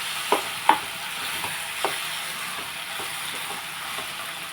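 A potato and tomato curry fries in a pan, its soft continuous sizzle broken by a few sharp ladle clicks and scrapes as it is stirred, close up and without voices.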